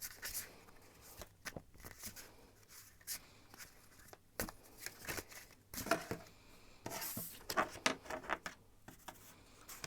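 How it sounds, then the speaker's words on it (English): Tarot cards shuffled by hand in bursts of riffling, slapping card noise, quiet and close, with short pauses and no talking. "I'm gonna shuffle the cards now."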